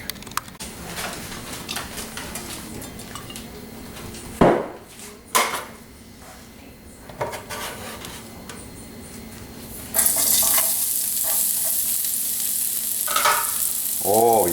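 Mushrooms sizzle softly in a pan while a utensil scrapes and knocks against it a few times; a brighter, louder hiss takes over partway through.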